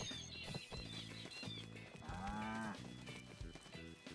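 Cows in the farming video game Staxel give a couple of drawn-out, pitch-bending moos over clopping steps and background game music, fairly clear and upfront.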